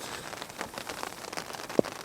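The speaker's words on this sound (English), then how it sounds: "It's not raining like crazy hard." Rain pattering steadily on a tent from inside, a soft continuous broadband patter with scattered drops and one brief sharper tap near the end, no voices.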